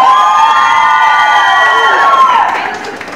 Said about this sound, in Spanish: Y el grito de las mujeres.